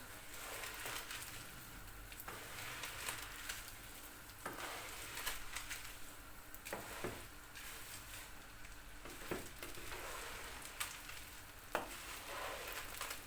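Butter egg noodles stirred with a wooden spatula in a pot: soft scraping and sizzling with scattered light clicks and taps, a quiet and continuous texture.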